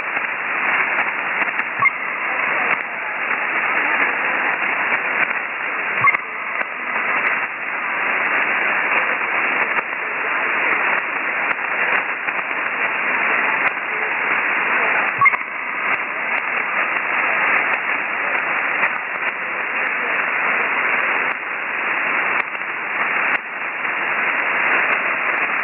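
A weak 5-watt QRP single-sideband transmission on an amateur radio net fades into steady, band-limited hiss and static, with only faint traces of a signal and occasional soft crackles over nearly half a minute.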